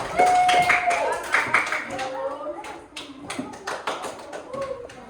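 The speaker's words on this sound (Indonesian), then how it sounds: "Beri tepuk tangan untuk kelompok 3." A classroom of students claps for group 3's presentation, a burst of scattered hand claps mixed with voices and chatter that thins out toward the end.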